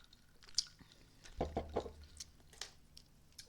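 Someone takes a drink of water indoors, a few faint, close sips and swallows clustered together, with soft scattered handling noises before and after in a quiet room.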